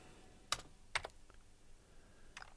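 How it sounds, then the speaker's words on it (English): Sparse keystrokes on a computer keyboard while entering a command for Amiga hardware programming: three or four sharp, close clicks spaced irregularly, with quiet gaps and no talking. "by typing like this."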